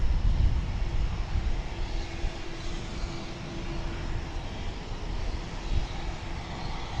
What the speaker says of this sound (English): Here comes that A300 barreling in from Houston.